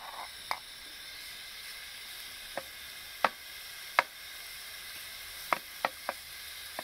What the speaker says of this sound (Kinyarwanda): Tugiye kubanza muri twa dukaroti twacu turapye ku ipanu